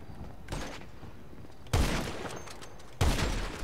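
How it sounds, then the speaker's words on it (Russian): In the video game GTA Online, a few sharp gunshots ring out at irregular intervals, each a loud, abrupt crack with a short decaying tail, the later two louder than the first. "Первый выстрел в тело, второй хедшот, судя по выстрелу."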